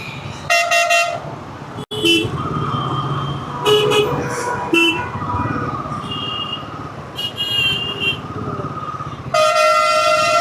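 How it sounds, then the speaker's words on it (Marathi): Vehicles stand in a traffic jam after a truck accident on the Malshej Ghat road, with loud, repeated horn blasts from several vehicles over a constant engine rumble, some honks long and some short. "ट्रकचा ॲक्सिडेंट झालं आहे, त्यामुळे हे ट्रॅफिक"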